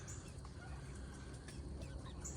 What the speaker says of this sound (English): Chickens, chickens, chickens.